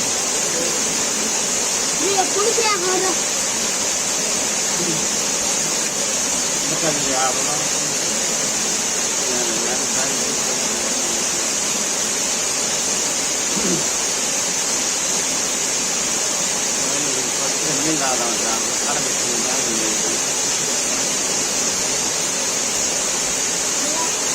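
Water pours down a waterfall at Sri Amara Lingeshwara Swamy Kona near Tirupati, a steady, loud, hissing roar that never lets up. Voices speak faintly now and then beneath the rushing water.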